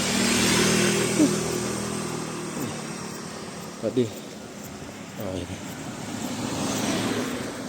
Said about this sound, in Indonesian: Pakai motor si hijau saya, yang motor kesayangan saya.